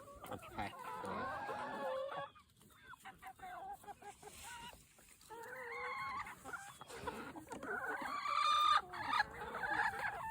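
Chickens cluck and squawk up close in bursts, with a rooster crowing among them and quieter gaps between calls.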